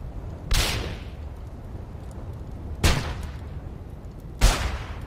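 Three weapon shots fired in the video game Starbound, each a sharp, loud burst with a decaying tail, spaced a couple of seconds apart over a low background hum.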